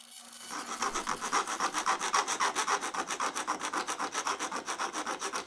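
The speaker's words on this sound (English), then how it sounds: "I deburred the aluminum with a file," A hand file deburring a cut aluminum channel for kitchen LED lighting, giving steady rhythmic rasping strokes, about a dozen quick back-and-forth scrapes, close and fairly loud with no talking.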